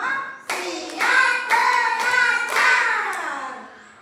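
A first-grade class claps in a regular rhythm, about five crisp claps, up close, while children's voices chant over them.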